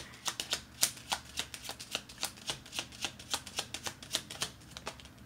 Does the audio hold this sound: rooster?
no